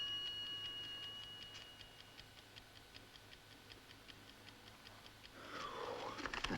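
A clock ticks steadily in a quiet room, faint and regular throughout, with a brief rustling burst near the end.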